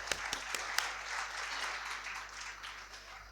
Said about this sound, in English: I can't stop myself than applauding you, ma'am